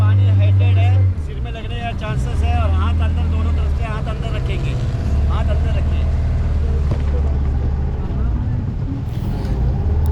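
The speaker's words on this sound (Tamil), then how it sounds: "இங்கேருந்து நம்ம லைம் ஸ்டோன் கேவுக்கு ஸ்பீட் போட்டில் போகிறோம்" A speedboat carries passengers to a limestone cave in North Andaman, its engine a steady, loud low drone throughout, with people talking over it.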